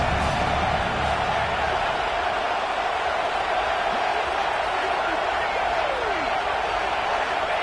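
A Georgia college football stadium crowd keeps up a continuous, loud roar and cheer throughout, with a commentator talking over it.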